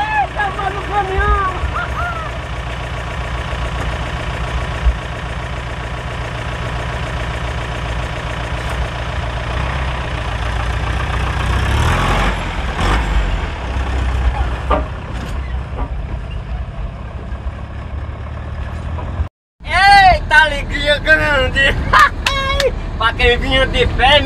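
A truck engine drones steadily through a ride, with a low rumbling hum that shifts as it runs; near the end it cuts out briefly and returns rougher and louder.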